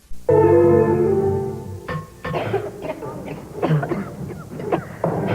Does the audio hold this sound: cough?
yes